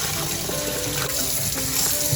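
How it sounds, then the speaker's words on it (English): Fresh-picked mint is swished around in a basin of water, sloshing close and continuous. "Swish it around in the water."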